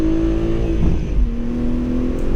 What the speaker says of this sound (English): I love shifting from right towards top of, or right at the top of the throttle to kind of get some pops as it goes in